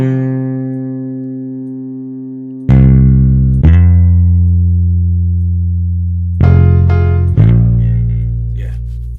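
Deep, twangy synth bass from a Native Instruments expansion played on an Akai MPC, sounding alone in sustained notes with sharp plucked attacks and slow decays, four strong hits spread across the passage.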